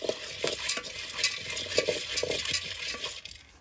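Coffee beans stirred while roasting in a pan, giving rapid scraping and rattling strokes with a light sizzle, close and fairly soft, fading at the end.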